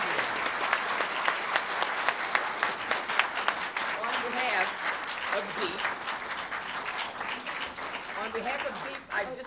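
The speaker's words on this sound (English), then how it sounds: "Let us clap our hands for Walidah and Thomas." Audience applause for presenters at a history talk, steady sustained clapping throughout, fairly close, with a few voices briefly audible beneath it.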